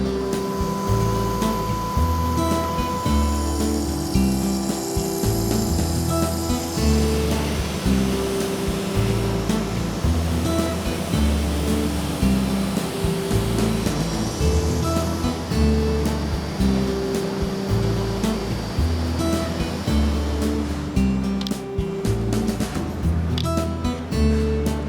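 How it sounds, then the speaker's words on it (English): A CNC gantry mill cuts large phenolic sheets in a workshop, producing a loud, continuous machining roar with whining tonal hums and rhythmic pulsing underneath that runs steadily throughout. "over at the CNC gantry mill, the phenolic is milled out of large sheets"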